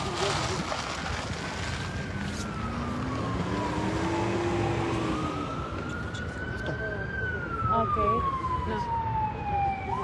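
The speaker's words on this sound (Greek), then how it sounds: "μόλις καταφθάνει πυροσβεστικό όχημα από την Αχαράβη, από τη Βόρεια Κέρκυρα" A fire engine siren wails as the truck arrives at a fire at the port of Corfu, Greece, its rising and falling tone clear over traffic noise, with someone talking throughout.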